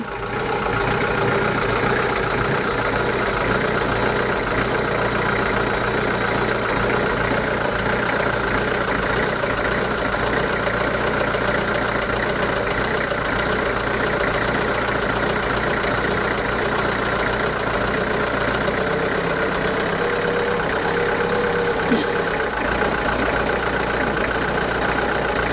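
A camper van engine idles steadily while warming up after a cold start, a loud continuous mechanical rumble with a constant throbbing texture and no talk.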